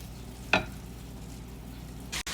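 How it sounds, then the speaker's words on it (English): Tofu pieces frying in a hot pan give a steady, soft sizzle throughout, broken by one brief clatter near the start and a sharper burst of hiss toward the end. "So while our tofu is being cooked on the pan till it's golden brown"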